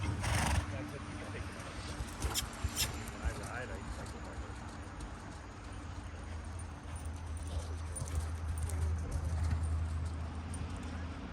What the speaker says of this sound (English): Canter away from it, Willa.